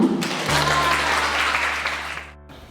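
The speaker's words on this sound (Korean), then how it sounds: "장원쌤 큰 박수로 맞아주세요" An audience applauds a teacher being welcomed at a school sketchbook event, a dense wash of clapping for a couple of seconds that thins out at the end over a steady low hum.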